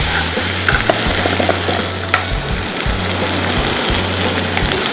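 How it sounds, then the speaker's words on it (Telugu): Ginger garlic paste gets stirred into onions frying in a pan on a home-cooking show, making a loud, continuous sizzle with scraping stirs and a faint low hum underneath, and no voices. "అల్లం వెల్లుల్లి పేస్ట్ వేసేసి ఒకసారి మిక్స్."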